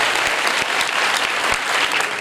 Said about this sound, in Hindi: इस खूबसूरत कलीसिया के लिए जोरदार तालियां।